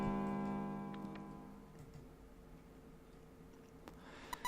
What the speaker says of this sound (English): A bell began to ring from far away